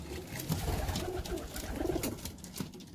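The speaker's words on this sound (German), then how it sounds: "Es sind 2 Pärchen, aber halt noch Jungtauben." Young pigeons coo softly in a loft on a cool day, low gentle calls rising a few times over a faint background hiss.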